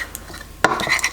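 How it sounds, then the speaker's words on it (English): A Thai shrimp salad dressed with chili paste and lime being stirred, one sharp clink of utensil on bowl followed by brief scraping, close and alone. "Stir this up"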